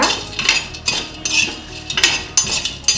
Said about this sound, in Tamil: இதையும் வந்து ஓரளவுக்கு வாசம் வர்ற வரைக்கும் வறுத்துக்கோங்க